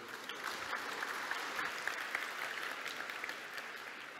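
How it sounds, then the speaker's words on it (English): Warm applause from a conference audience welcoming a speaker, a dense steady patter of many hands clapping throughout, moderately distant, with no talking. "A warm round of applause for Andrey Okonetchnikov."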